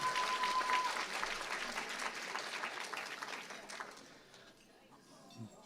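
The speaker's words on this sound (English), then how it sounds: "Let's give them a round of applause." Audience applause at a university inauguration before a Filipino club's dance performance, a dense round of clapping that fades out, with crowd sounds and a brief tone near the start.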